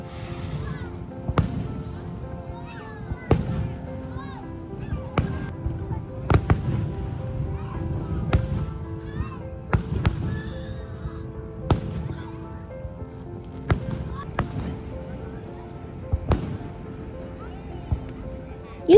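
Fireworks burst over Niagara Falls in a steady string of sharp booms and crackles, about one every second or two, over a murmuring crowd.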